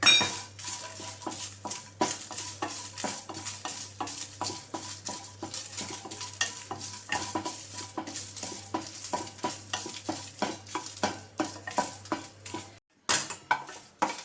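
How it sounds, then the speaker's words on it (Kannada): Green chillies frying and being stirred in a pan for an instant chitranna premix powder, with a steady run of clinking ladle scrapes against the metal over a low sizzle, close and continuous, with no voices. "ಆ ಎಂಟು ಬ್ಯಾರಿಗೆ ಮೆಣಸಿನ್ಕಾಯಿ ಹಾಕ್ಕೊಂಡು ಪೀಸ್ ಪೀಸ್ ಮಾಡಿಟ್ಕೊಂಡಿದ್ದೀನಿ ಅದನ್ನು ಚೆನ್ನಾಗಿ ಈಗ ಹುರ್ಕೊಂಡ್ಬಿಡೋಣ"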